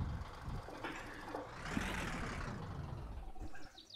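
Van reversing in the video game My Summer Car, a loud engine roar rising and swelling through the middle with a whooshing rush, then cutting off abruptly near the end.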